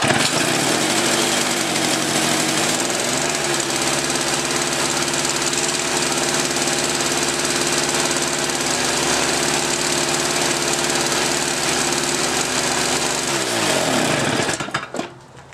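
A Toro S-200 snowblower engine runs at a steady, loud, rattling buzz for most of the stretch, with a slight pitch dip near the end before it cuts off abruptly.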